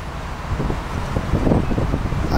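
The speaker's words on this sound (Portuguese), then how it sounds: "ventando bastante aqui" Strong gusty wind buffets the microphone at Congonhas airport with a constant low roar that surges and swells, with no voices.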